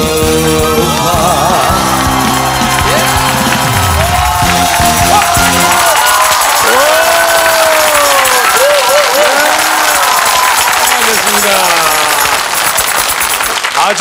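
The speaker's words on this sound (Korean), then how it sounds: "열렬하게 박수와 함성을 보내시네요" A women's studio audience on a Korean TV family game show bursts into loud, sustained applause and cheering with whoops, while a host talks and music plays over the noise.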